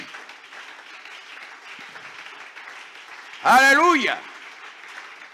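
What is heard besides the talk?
congregation applauding in church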